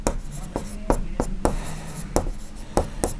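Pen or chalk writing out a square's side length during a Class 6 maths lesson, a run of short, sharp scratchy strokes tapping in an uneven rhythm, close and fairly loud.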